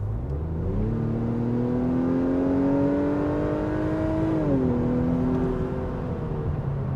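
A 272-horsepower four-cylinder engine in an Acura TLX pulls hard on a test drive, its tone climbing steadily, holding high, then dipping slightly as it eases off, loud and close from inside the cabin.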